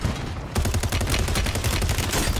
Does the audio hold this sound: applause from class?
no